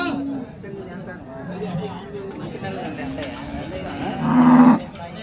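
A water buffalo lets out a loud, drawn-out moo at a busy buffalo cattle market, rising above steady crowd chatter and nearby talking.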